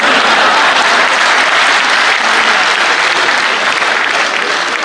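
At a Hindi comedy poetry gathering, the audience breaks into loud, dense applause. The clapping is sustained and even for about five seconds, with no voice standing out above it.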